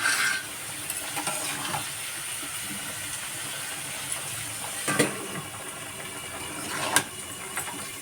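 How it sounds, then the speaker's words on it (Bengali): Vegetables and lentil dumplings sizzle steadily in a pan. The frying hiss is constant and close, broken by a few soft knocks as the food is stirred. "ভেজ ডালের যে সবজিটা ভাজছি"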